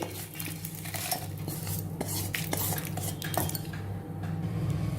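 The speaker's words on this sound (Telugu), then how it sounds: "ఇలా ఒక మిక్సీ జార్ తీసేసుకొని అవి ఇందులోకి వేసేసుకోవాలి" Cooled dry red chillies tipped into a mixer jar, giving a continuous light clatter and rattle of hard kitchen items against a steady low background hum.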